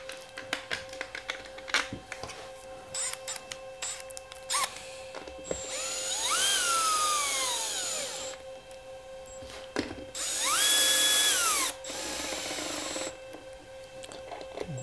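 Power driver running mounting screws into a router lifter plate, with bursts of high whirring and rising-falling motor pitch between short gaps, close and fairly loud with small clicks and handling noises in between.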